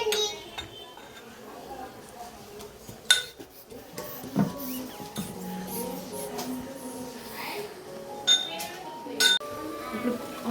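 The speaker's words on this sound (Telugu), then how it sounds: "పల్లీలు అయితే దంచుతుంది" A child pounds peanuts with a pestle while a tomato curry is cooked, making sparse clinks and knocks at irregular intervals beneath talking and kitchen background noise.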